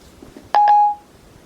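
Short electronic chime from an iPhone 4S as Siri starts placing a phone call, two quick bright tones rising out of a quiet room with faint murmurs before it.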